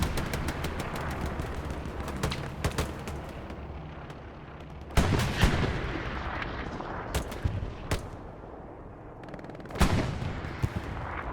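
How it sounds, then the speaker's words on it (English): An anti-tank PaK gun fires in a video game battle: loud, sharp booming shots at intervals over a constant rumble of distant gunfire and battle noise. "maybe that's an opportunity for this pack gun on the hill to take a pot shot"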